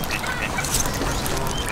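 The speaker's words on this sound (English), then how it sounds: "Oh, look at the duck. He's eating it." Ducks at a park pond in Neasden Recreation Ground quack and chatter steadily while being fed, with a busy flock heard close by throughout.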